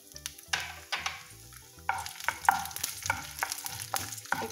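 Chana dal, urad dal and mustard seeds frying in hot oil, a crackling sizzle with irregular sharp pops and spatters at close range.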